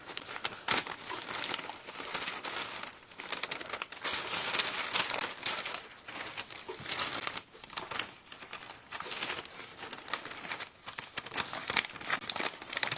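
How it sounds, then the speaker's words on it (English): Decoupage paper is torn by hand along a folded crease, giving soft, close crinkling and ripping in short irregular bursts that repeat steadily, quiet and without talk. "I'm just going to start tearing around just outside that edge crease that I just made"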